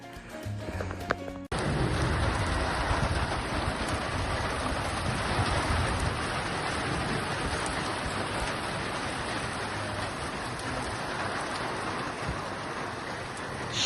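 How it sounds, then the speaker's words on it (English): Steady rain falls in a dense, even hiss after an abrupt start, continuing unbroken and fairly close for over ten seconds with no talking. "Sheltering from the rain."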